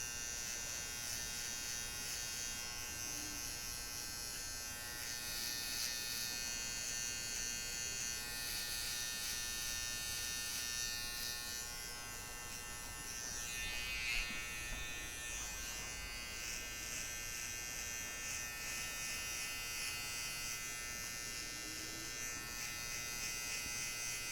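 Electric clippers buzz steadily and continuously while shaving the hair at the back of a head, a close, even hum with no talking.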